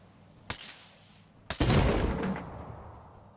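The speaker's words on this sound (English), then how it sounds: "That also sounds like some really nice suppressed gunfire." Gunfire in the video game Stalker 2: two sharp isolated reports about a second apart, followed by a denser burst of rapid shots that rumbles and fades over roughly a second.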